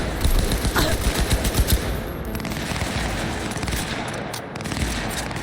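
Automatic gunfire in Cyberpunk 2077 during a firefight against a gang, with rapid, closely spaced shots in a sustained burst that are loud and near during the first two seconds, then a dense, noisy battle din continuing without speech.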